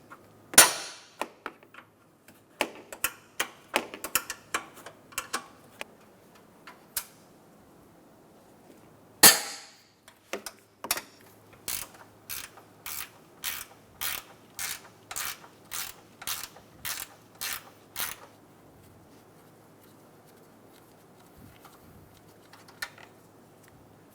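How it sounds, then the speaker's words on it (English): A 10mm ratcheting wrench works bolts behind the headlights of a 2014-2019 Toyota Highlander: scattered bursts of ratchet clicks, then a long, regular run of about a dozen sharp, close clicks. "Using a 10mm wrench, I'm going to remove the 10mm bolts right behind the headlights."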